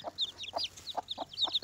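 Local chickens and chicks cluck close by, with short rhythmic clucks mixed with quick high peeps repeating about every half second.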